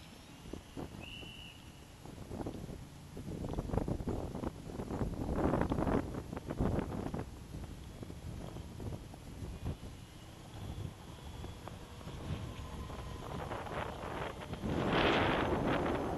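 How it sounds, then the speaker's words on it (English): Gusty wind buffets the microphone during a flight in a Maule airplane, with irregular rumbling blasts that swell and fade over a low, steady background drone and no talk. "now the wind is getting pretty gusty"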